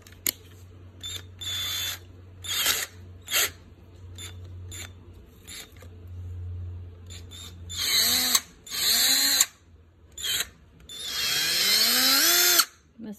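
An Athena cordless drill driving screws in short bursts, each whirring spin starting and stopping with quiet gaps between, the later bursts longer with rising and falling motor pitch.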